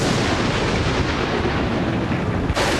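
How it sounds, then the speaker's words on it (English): Deep, continuous rumbling thunder from a tropical thunderstorm rolls on steadily for a few seconds, loud and broad, with a sharper crack near the end. "I just love a good thunderstorm, and so do the crocodiles."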